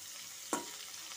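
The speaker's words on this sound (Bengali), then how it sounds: "আমি উচ্ছেগুলোকে ভাজা ভাজা করে নেব" Bitter gourd fries with turmeric and spices over medium heat, a soft steady sizzle broken by one sharp stir or clink midway.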